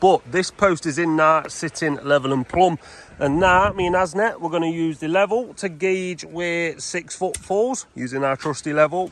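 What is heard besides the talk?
No everyday noise stands out behind the speech.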